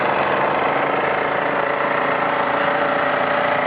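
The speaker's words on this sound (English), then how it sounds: "You can hear me above the racket. I'll just fan back and see the two engines working." A steady mechanical racket of two burner-fired model steam engines running continuously, a dense rattling drone at even loudness throughout, close by.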